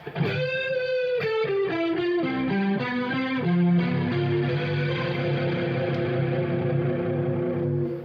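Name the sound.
electric guitar lick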